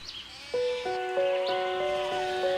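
A goat bleats in several long, wavering cries that follow one another closely, loud and near with no talk over them.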